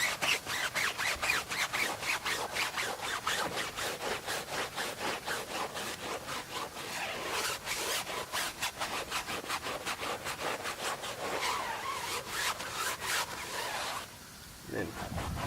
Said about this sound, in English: You basically want to scrub until the foam becomes white, and then you know that the area is contaminant free.